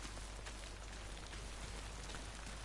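Rain falls in the video game Death Stranding as a steady, even hiss of drops on surfaces, constant and moderately faint, with no voices.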